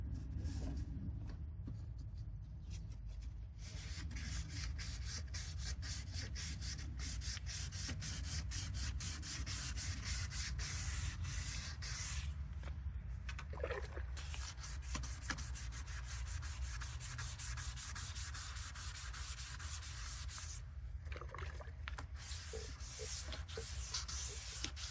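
Hand sanding of a fogged headlamp lens with 400 grit sandpaper, a steady close scratchy rubbing in long continuous strokes, broken by a couple of brief pauses, with no talk.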